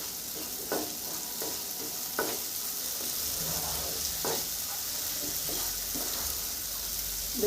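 A spice paste sizzles in hot oil for a cauliflower and potato curry while a spatula scrapes and stirs the pan now and then, a steady close frying hiss with no voices.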